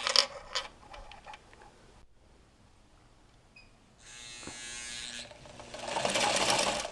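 A Singer 237 sewing machine runs with its needle not engaging, giving a rapid buzzing whir in two bursts, the second louder and fuller, after short clicks and a quiet pause.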